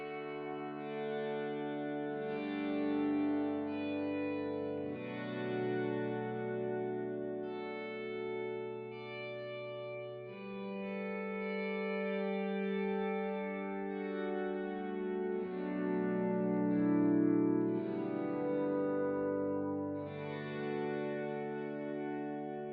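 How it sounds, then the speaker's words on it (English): Ambient electric guitar set to a violin-like effect, notes swelling in softly without attack and sustaining in smooth, layered chords with a chorus-like shimmer, steady and moderately quiet throughout. "So here's with the violin sound."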